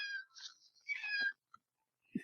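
A real house cat meows a couple of times, drawn-out and fairly close, then a few faint thumps and a short rustle follow in a quiet room.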